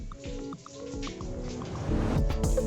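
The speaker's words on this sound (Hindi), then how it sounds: "नल चला रही हूँ" Tap water runs steadily during a long-hair wash at home, a continuous close splashing with scattered drips and a slight swell toward the end, and no talk over it.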